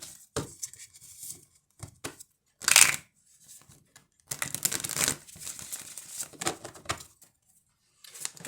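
Tarot cards are shuffled by hand up close, giving crisp, papery riffling bursts in an irregular rhythm with short pauses between them.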